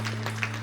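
Church congregation applauding during a worship service, a brief dense burst of clapping over a steady low hum.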